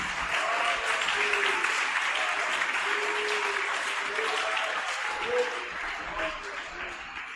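A church congregation clapping with joy in praise of Jesus: dense, sustained applause filling the room, with a voice and faint music or cheering running underneath, gradually easing toward the end.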